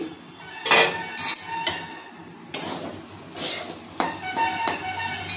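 A metal lid comes off a cooking pot of shrimp khichuri with a series of close, ringing clanks and clinks, several distinct knocks spread over a few seconds.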